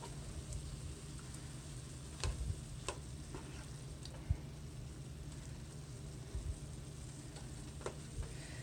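Shrimp sizzle softly in a pan on the stove for shrimp enchiladas, a quiet continuous crackle with sparse ticks and scrapes from stirring at irregular intervals.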